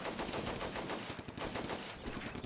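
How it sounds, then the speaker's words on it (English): Dense, continuous gunfire from the Combat Mission war game, with rapid machine-gun bursts and rifle shots firing on German Panzer Grenadiers in a wood, loud and steady throughout with no break. "These guys shooting these Panzer Grenadiers in the wood."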